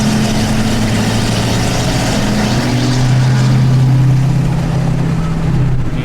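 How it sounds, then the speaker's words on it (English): Ford 6.7 Powerstroke diesel pickup towing in tow-haul mode and downshifting, a loud, close, continuous low engine drone with shifting pitch as it changes gear, no voices. "The tow haul, I guess it likes to downshift when you like rip on it like that."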